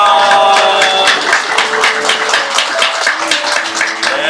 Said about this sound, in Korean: 박수를 쳐주시면 되겠습니다